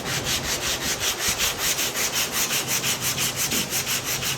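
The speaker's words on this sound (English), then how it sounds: "Whenever you sand and block, try to keep this thing straight as possible." A sanding block is pushed back and forth over a surface in quick, even strokes, a close, rhythmic scratchy rasp repeating about five times a second with no talking.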